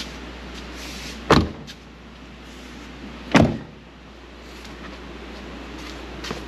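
Two separate door handle pulls and thumps on a locked Jeep Cherokee XJ, spaced about two seconds apart, close and fairly loud over a steady low hum, with no talking.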